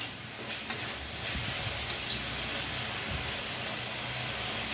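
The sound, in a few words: frying tomato with salt in a pan, stirring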